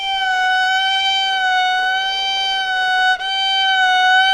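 A single sustained bowed violin note with slow, even vibrato holds for several seconds, briefly breaking once before continuing, bright and close.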